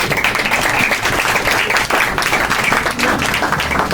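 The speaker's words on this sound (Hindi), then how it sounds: "इनके लिए जोरदार तालियां बजाएंगे" Audience in a Pakistani church congregation claps loudly for eight volunteers who stepped into line, a dense sustained burst of applause filling all four seconds at steady volume.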